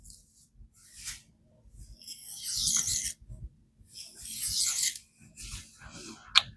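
Spyderco Endura 4 VG-10 knife blade drawn across a Sharpal 325/1200 diamond plate, a close rasping scrape in repeated strokes of varying length with short pauses between passes.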